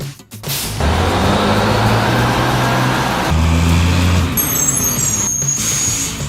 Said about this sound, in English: Another garbage truck.